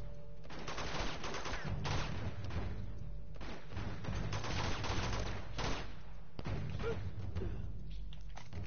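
Heavy machine gun in the video game Uncharted 2 fires in long, dense bursts with brief gaps, loud and close, with thudding impacts mixed in throughout.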